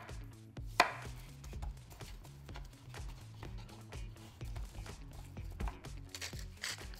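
A knife chops through zucchini on a cutting board in a steady run of close, crisp strikes, with a sharper knock near the start and faint kitchen background throughout.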